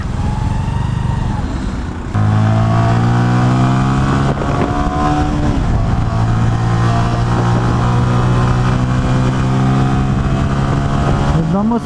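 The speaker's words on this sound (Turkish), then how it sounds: "Nereden denk geldiysem lanet bir trafiğe girdim." Bajaj Avenger 150 motorcycle ridden through slow road traffic, its engine loud and close, climbing in pitch through repeated revs and gear changes, with wind buffeting and a rider's voice talking over it.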